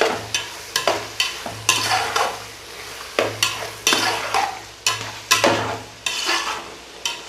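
Garlic and dried coriander stir-fried in a pan for a lauki and chana dal dish, a spoon scraping in steady repeated strokes over a continuous sizzle, close and fairly loud with no talking.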